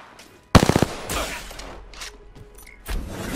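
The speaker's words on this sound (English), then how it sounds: "Getting shot at." Video game gunfire: a loud burst of rapid automatic shots right up close, then scattered fainter shots and thuds, with another heavy burst at the end.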